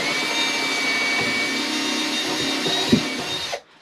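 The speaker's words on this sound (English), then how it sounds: "There's an aluminum frame that he's drilling into with self-tapping screws." A power drill drives self-tapping screws into an aluminum frame beneath plywood in a 2016 Winnebago View motorhome, giving a steady loud whirring drone that cuts off abruptly near the end.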